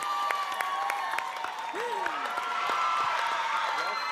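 A crowd applauds with steady clapping and some cheering, while a voice talks over it and a whistling tone slides through.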